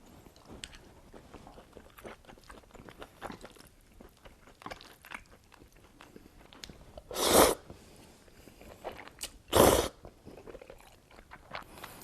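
Steak is chewed and bitten up close during a mukbang, giving soft, wet, irregular mouth sounds with two louder bursts partway through, and no talking.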